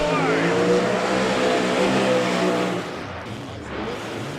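A first-generation Camaro with a ProCharger supercharger roars loudly on a drag race pass under excited commentary, the high-powered drone sustained, then dropping off as the car goes by.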